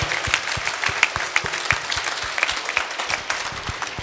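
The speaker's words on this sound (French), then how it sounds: "applaudissez-la très fort" A church congregation applauds loudly at a Sunday service, a close, dense burst of many clapping hands with steady rhythmic accents throughout, no talk over it.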